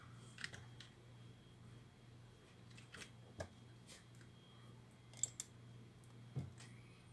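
Scattered keystrokes on a computer keyboard while entering records into Microsoft Access, soft, irregular clicks spaced apart against a low steady hum.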